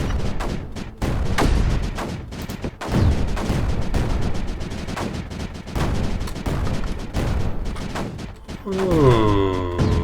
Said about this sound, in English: I need another mortar over here as well.